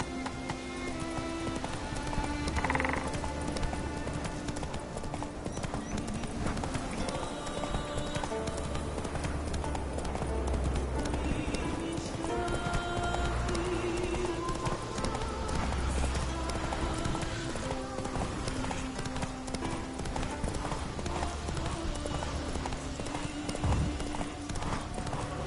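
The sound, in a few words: horse Roach galloping in video game Witcher 3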